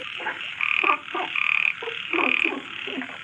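A recording of frogs played from a robot gadget croaks in repeated rhythmic bursts, loud and close, with short pauses between the trilling calls.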